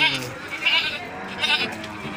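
Kacang goats at a Pelaihari livestock market give faint, brief bleats beneath murmuring voices and general market bustle.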